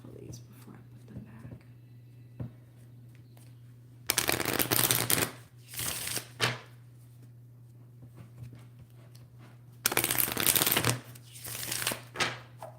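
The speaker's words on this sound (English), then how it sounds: "Shuffle these before I put them" Two bursts of rapid tarot card shuffling, each riffle a brisk papery flutter lasting about a second, with quiet handling sounds between them.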